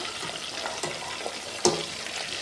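Fish deep-frying in oil makes a close, bubbling sizzle with a watery, rushing texture, broken by a few soft clicks and one sharper clatter, and no one talks.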